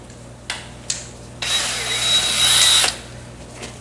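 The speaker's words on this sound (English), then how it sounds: "all I'm gonna do now is just grab my cordless." A cordless drill bores through metal while a new hoist ram is fitted: two short bursts, then a steady, loud, close grinding whine lasting about a second and a half, which stops abruptly.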